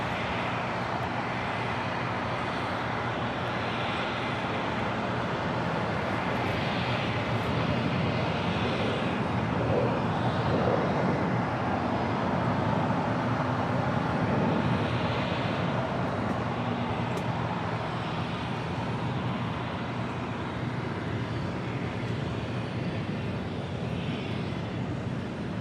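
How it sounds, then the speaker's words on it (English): A United Airlines Boeing 737-900ER arriving from Austin lands at LAX, its steady broadband jet roar holding loud and close for the whole stretch with a gentle swell in the middle and no voices over it. "That was United Airlines Flight 502 coming in from Austin, Texas on the 737-900ER"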